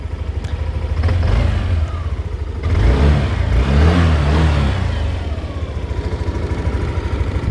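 A 2025 Yamaha XMAX scooter engine idles with a buzzing putter, then revs up twice in loud surges before settling back to idle.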